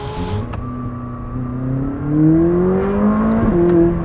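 A McLaren 600LT supercar with a top-exit exhaust revs loud and close, its engine note climbing steadily in pitch and swelling in volume, with no voices over it.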